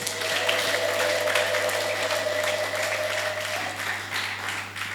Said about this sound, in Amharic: እልልታ ጭብጨባ ሰጣችሁ ቁጭ በሉ